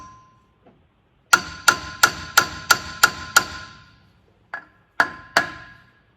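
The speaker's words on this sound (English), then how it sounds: "grab yourself a little hammer here" Hammer blows on the cones holding a Land Cruiser front axle together, a quick run of seven sharp metallic strikes followed by three more spaced hits, loud and close with ringing decay.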